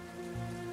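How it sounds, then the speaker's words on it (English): Steady rain patters on city pavement in the World of Goo 2 video game, a soft, even hiss with a low hum underneath, brief and fairly quiet. "The night sky pours down rain like it has a personal grudge."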